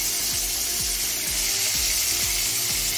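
Whole cumin, black mustard seeds and curry leaves sizzle in hot oil in a pan, a steady, loud hiss with small rhythmic popping and scraping, no talking.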